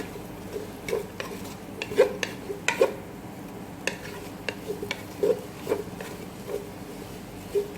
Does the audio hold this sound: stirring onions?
yes